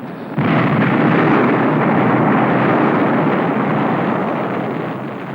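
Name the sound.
underwater volcanic explosion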